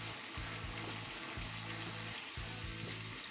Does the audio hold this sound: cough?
no